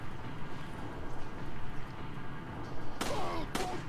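Resident Evil 4 gunfire plays under a constant busy game din, with two sharp, loud bursts close together near the end.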